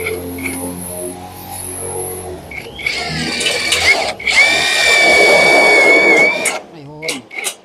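A power drill drives metal flex screws into a box-type gutter corner, whining up in short bursts and then one long run at close range, with someone talking over the start.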